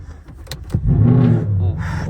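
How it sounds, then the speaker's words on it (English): A Ford Mustang engine cranks and fires up after a few clicks, settling into a loud, rumbling idle close by. "we'll turn on the car"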